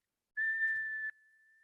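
A single plain, steady whistled tone, the basic starting note for practicing bird imitation, holds clear and close for under a second, then trails off into a faint thin remnant.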